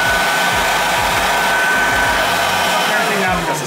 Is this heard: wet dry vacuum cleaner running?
yes